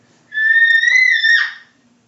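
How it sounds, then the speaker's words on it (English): A young girl lets out a single sustained high-pitched scream that swells and then fades, heard alone at a little distance. "That's my daughter screaming."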